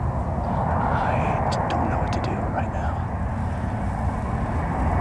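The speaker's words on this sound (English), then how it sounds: "Then help came in the form of an American transport plane." A low, steady rumbling drone of an American military transport plane fills the scene throughout, loud and continuous, with faint hushed voices over it.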